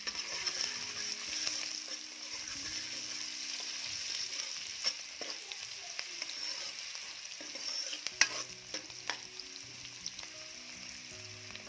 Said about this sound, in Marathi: कांदा छान परतून घ्यायचा आहे